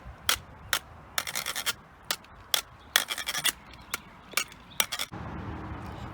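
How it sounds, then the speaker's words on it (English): Sticks are rasped across a homemade DIY musical instrument, producing short scratchy strokes, some single and some in quick rhythmic runs, close up, ending in a steadier scraping texture. "With the same sticks we used to make use for the drum, we just rasp it here, and with rhythm if you want."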